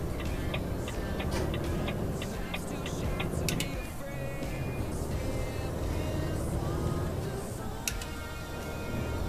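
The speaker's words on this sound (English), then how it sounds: "We hear the clicking noises, me changing down." Gear-change clicks from a truck downshifting in Euro Truck Simulator 2, a series of short ticking clicks over a steady, loud engine and road drone.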